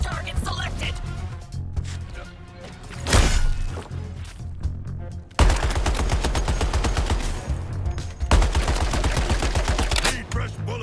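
Gunfire from the Suicide Squad: Kill the Justice League video game, loud rapid automatic bursts and sharp single shots in clusters, mixed with game effects and voices talking.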